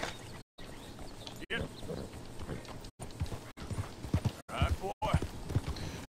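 Horse hooves clip-clop in Red Dead Redemption 2, a large horse plodding in a steady rhythm at moderate distance under someone speaking throughout, with brief dropouts cutting the sound.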